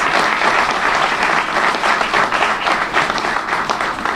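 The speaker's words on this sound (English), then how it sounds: "give a big round of applause for my residents here in the Rosa Pullman community" A large audience claps in sustained applause for Rosa Pullman community residents at the redesignation event for Pullman National Historical Park, a dense, steady wash of hands, with no voices heard.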